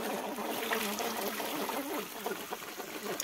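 Cold mountain spring water in Kathua, Jammu and Kashmir, flows and trickles steadily at close range, a continuous bright splashing wash with no speech over it.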